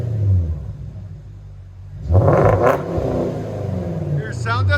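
A Porsche Cayenne S with a 4.8L V8 and modified exhaust rumbles at idle, then swells into a deep rev that holds and falls back, while someone talks over it.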